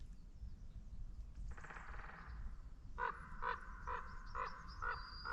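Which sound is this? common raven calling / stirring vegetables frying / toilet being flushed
common raven calling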